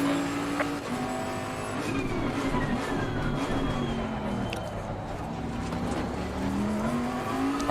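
A race car engine in Assetto Corsa Competizione hums steadily throughout, its pitch sliding up and down through gear changes at moderate loudness, with a continuous road and tyre rush behind it.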